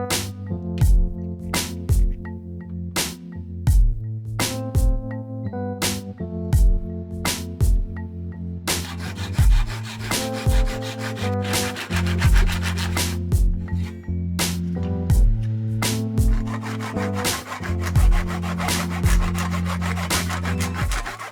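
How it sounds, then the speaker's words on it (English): Wooden chopsticks are sawn down to their tapered ends: steady back-and-forth sawing strokes, close and loud, in a regular rhythm with brief pauses, with no talking. "And then the chopsticks get trimmed down to keep only the tapered ends."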